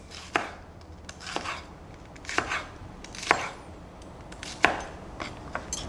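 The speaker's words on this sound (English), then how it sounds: "for the sugar snap peas, I'm just cutting them on a bias, AKA diagonally" A knife slicing raw sugar snap peas diagonally on a cutting board, several crisp taps spaced about a second apart, close and moderately quiet, no talking.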